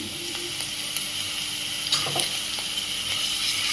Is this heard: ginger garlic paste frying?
yes